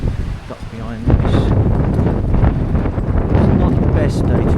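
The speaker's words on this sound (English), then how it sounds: "It's not the best day to be videoing this, it's quite windy." Strong wind buffeting a microphone outdoors in a churchyard in a seaside town, a loud continuous low rumble with gusts throughout and a brief calmer moment at the start.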